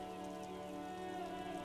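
Steady rain in the video game Disco Elysium, a constant soft patter with no breaks, mixed with a sustained tonal musical drone underneath.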